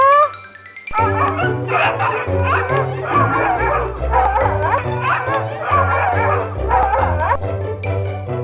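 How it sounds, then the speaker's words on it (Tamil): A dog barks repeatedly in short, loud yaps with a few whimpering notes, layered over bright, bouncy children's music in a farm animal sounds lesson. "நாய் எப்படி கத்தும்?"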